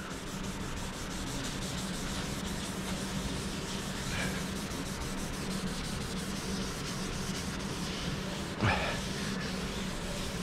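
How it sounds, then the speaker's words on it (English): A scotch pad scrubbing heavy rust off a metal machinery table, a steady close abrasive rubbing that runs unbroken throughout, with no talk. "if it's a heavier rust, ooh, that stuff's strong, that I might want to use a scotch pad"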